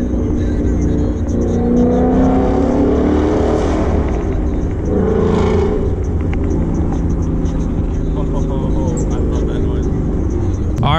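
A Ford Mustang with a manual transmission drones loudly and steadily inside a road tunnel, its engine rising in revs with a whooshing, echoing roar, while a voice speaks over it.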